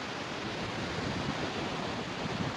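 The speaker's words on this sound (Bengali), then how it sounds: "সামনে সমুদ্রের ঢেউ" Sea waves wash onto Juhu beach in Mumbai as a soft, continuous rushing surf with a little wind noise, steady across the short moment.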